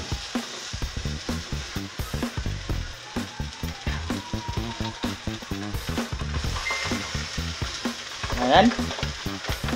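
Milkfish sizzles as it fries in a hot pan, a strong crackling sizzle with rapid pulsing spatter throughout, and one brief word spoken near the end.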